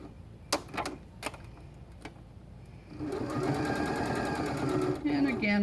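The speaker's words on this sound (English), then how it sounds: "we're going to just sew this here" Sewing machine stitching quilt panels together: a few sharp clicks and knocks, then a steady fast whirring run of stitches starting about halfway, close and clear under a voice.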